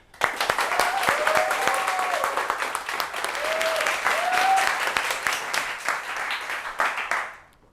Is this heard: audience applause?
yes